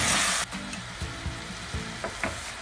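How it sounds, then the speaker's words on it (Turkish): Peas and diced potatoes fry and sizzle in a pot with a steady hiss, while several soft scraping stirs break through the frying sound. "1 kilo bezelye içimi de içerisine ilave ettim ve karıştırıyorum"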